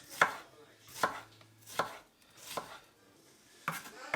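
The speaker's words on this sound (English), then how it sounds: "we're just going to thinly cut the red onion" A knife slices red onion thinly on a chopping board, six crisp evenly spaced cuts about a second apart, close and clear with no talking.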